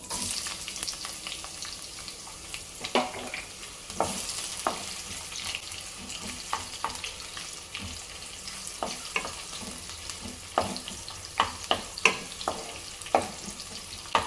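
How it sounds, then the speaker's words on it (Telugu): Chopped onions frying in hot oil for tomato rice, a continuous close sizzle with frequent stirring scrapes and clatters throughout. "ఈ ఆనియన్స్ అన్నీ కూడా కొంచెం మంచిగా ఆయిల్లో వేగాలండి"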